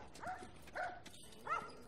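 Dogs bark in The Last of Us Remastered, three short barks spaced about half a second apart, faint and somewhat distant in the game's ambience.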